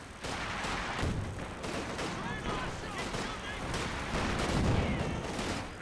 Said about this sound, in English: HMG! Get down! One of our fighting positions is sustaining fire.